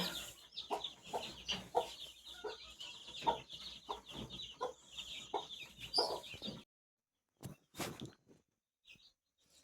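A free-range village hen clucks repeatedly beside her young chicks, rhythmic close clucks for several seconds before a sudden drop to near silence with a few last faint calls.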